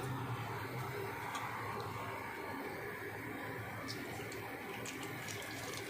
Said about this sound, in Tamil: அரை கப்பு தண்ணி ஊற்றியாச்சு இப்போ பிசைஞ்சிடலாம்